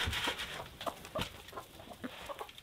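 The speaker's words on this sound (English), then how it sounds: "Come on, chickens." Chickens cluck softly in short, irregular bursts, fairly quiet and close by.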